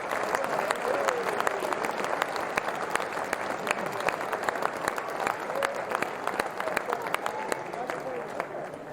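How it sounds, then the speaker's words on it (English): Crowd at a Crossmaglen v Ballymacnab senior football final applauding former Armagh Ulster Minor champions of 1968, a dense, sustained clatter of many hands with some speech mixed in. "could you give a round of applause to the Ulster Minor champions of"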